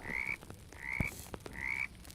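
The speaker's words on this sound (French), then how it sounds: "Il y a des grenouilles." Frogs in the video game 99 Nights in the Forest croak three times at an even pace, each call a short rasping burst, moderately close over a faint ambient backdrop with no speech.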